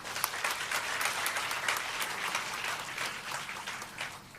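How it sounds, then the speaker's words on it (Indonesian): Church congregation clapping together, a steady wash of many hands applauding for several seconds, moderately loud and fairly even, fading slightly near the end. "Coba tepuk tangan buat GMCC"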